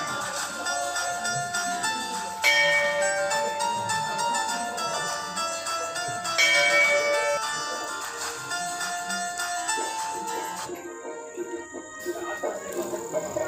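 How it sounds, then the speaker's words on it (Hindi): Metallic temple bell strikes with long ringing tones, struck a few times a few seconds apart, each resonating and slowly fading, on a hilltop. "चलो घंटी बजाओ"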